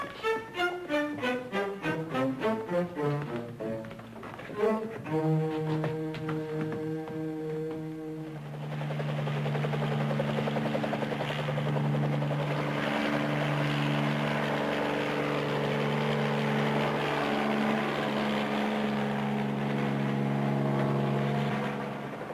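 Helicopter flying in a vintage television adventure series, a steady droning engine and rotor roar that swells in after several seconds of music and holds under a sustained musical score.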